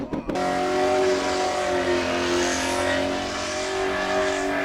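At a ute muster in Deniliquin, utes rev hard with tires squealing, a loud continuous roar of engines and screeching rubber after a sharp opening bang, with no talk.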